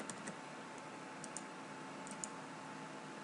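Light, scattered key clicks from typing on a computer keyboard while writing JSP code, a handful of soft taps spread across a quiet, hissy room background with no voices.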